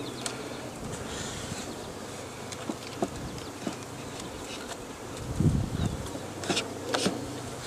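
Steady honeybee buzzing hums throughout during a package install into a hive, with brief louder swells as individual bees pass close by.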